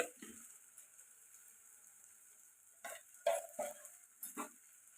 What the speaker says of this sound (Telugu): ఇప్పుడు ఈ మసాలాలన్నీ ఎగ్స్కి బాగా పట్టేలాగా కలుపుకోండి